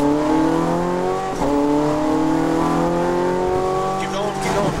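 A Ferrari 430 Scuderia accelerates hard at Las Vegas Motor Speedway, its engine pitch climbing steadily through a brief gear change, loud and close.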